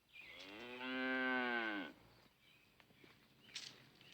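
A cow on a farm lets out a single loud, drawn-out moo lasting about a second and a half, followed by quieter rustling and faint thumps.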